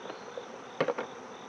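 Honeybees in an opened hive give a soft, steady insect buzz, with a brief louder burst of buzzing near the middle as frames are handled up close.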